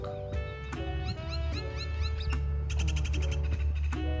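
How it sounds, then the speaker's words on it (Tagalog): Several crows caw loudly and repeatedly close by, harsh overlapping cries filling the air over a steady low background hum. "Narinig niyo ba yung mga ibon? Ayun o, may crow. Ayun, may crow. Ang ingay nila guys."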